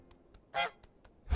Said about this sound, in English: which means that we can honk